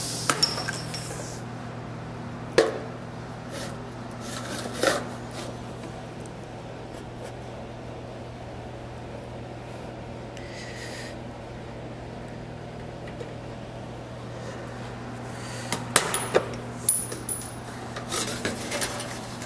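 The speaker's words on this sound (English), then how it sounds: "I'll start by knocking out the corners of the cutouts using a 1/8 inch die in the Rotex punch" A Rotex punch with a 1/8 inch die knocks out the corners of copper cutouts, giving a few sharp metallic clacks scattered over a quiet hum, with a cluster of clicks near the end and no talking.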